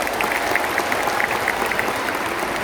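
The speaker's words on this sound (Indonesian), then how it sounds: "boleh tepuk tangan kepada mereka." Audience applause at a political speech during a Partai Demokrat and PKS anniversary gathering, a steady dense clapping that holds evenly through the short stretch, fairly distant and without voices on top.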